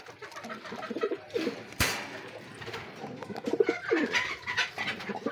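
Pigeons, kept as young birds in a loft, give soft, repeated cooing at close range, with light rustling and one sharp click in between.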